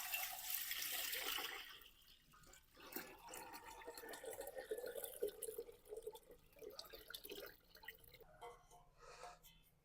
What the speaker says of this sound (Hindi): पतीले में शामिल करते हैं पानी।